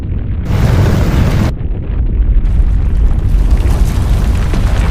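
A massive explosion destroys the main resistance base in a video game, a loud, sustained roaring boom with rumbling blasts that keep rolling and crackling for several seconds, filling the whole clip.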